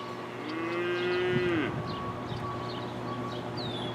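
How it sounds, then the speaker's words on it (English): Several cows moo in long, drawn-out calls, one loud and fairly close, with a steady low tractor engine hum running underneath. "But there's the cows"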